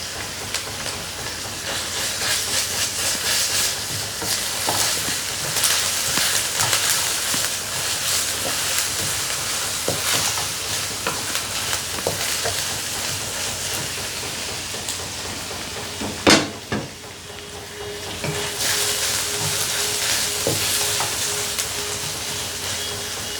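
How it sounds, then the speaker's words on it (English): Onion and ginger garlic paste frying in a pan for a Malaysian fish head curry, a loud, steady broadband sizzle with a brief sharp knock partway through before the hiss resumes. "once you smell the onion, you can add the ginger garlic paste."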